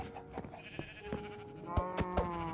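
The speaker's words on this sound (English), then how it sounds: "got some sheep going here, obviously" Bleating sheep in a Minecraft-style block game: several short, nasal bleats from a flock, some overlapping, clear and close against a quiet backdrop.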